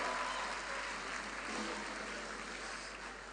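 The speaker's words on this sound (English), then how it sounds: "Chief Lesi Maol, round of applause for him" A round of applause at a Federal University of Environment and Technology maiden founders' day ceremony, faint steady clapping from the audience that tapers slightly toward the end.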